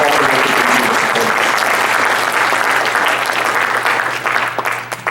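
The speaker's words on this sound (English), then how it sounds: "Please give all of these organizations a big round of applause" Loud, sustained audience applause at an ACA 51st anniversary gala, honoring sponsoring organizations; dense clapping fills about five seconds and begins tapering near the end.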